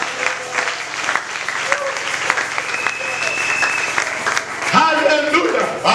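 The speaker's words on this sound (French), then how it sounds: "Est-ce que tu peux applaudir le Seigneur?" A church congregation at a seminary service applauds steadily, crisp clapping under a speaking voice, with a brief shout near the end.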